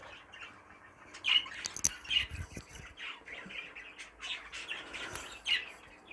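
A young opaline budgerigar squawks and chirps repeatedly and close by, harsh calls running over a steady bed of chatter, with no talk.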